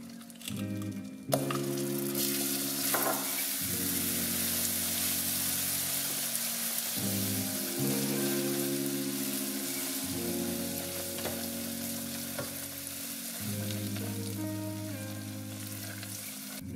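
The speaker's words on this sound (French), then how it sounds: "J'ajoute progressivement les parcelles de beurre et ensuite je mélange bien le caramel pour qu'il absorbe toute" Salted butter caramel stirred in a saucepan over heat, with pieces of butter being worked in, sizzles and bubbles steadily and close up, with repeated scraping stirs across the pan and no talking.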